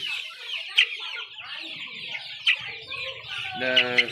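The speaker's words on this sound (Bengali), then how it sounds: "দেখতে পাচ্ছেন সোনালি মুরগি" Sonali chickens about a month old cluck and chirp close by in a busy flock, with a few sharp peeps and a louder squawk near the end.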